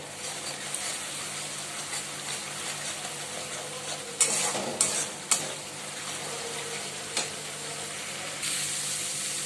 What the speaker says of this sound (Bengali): তো এবার মশলাটাকে মানে ভালো করে আরেকবার কষিয়ে নেব